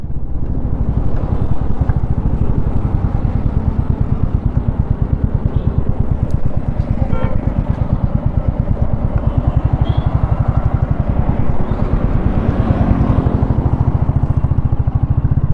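2024 Royal Enfield Bullet 350 motorcycle riding at speed, a loud steady engine thump with rapid regular pulses and wind rumble, heard close from the rider's position for the full length.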